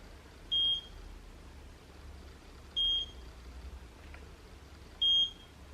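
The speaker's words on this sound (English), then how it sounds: "you clip it in, it sucks your hair in, it will beep 4 times, slowly" An automatic hair curler beeps: three short, high electronic beeps sound slowly at even intervals of about two seconds, clear against a quiet background.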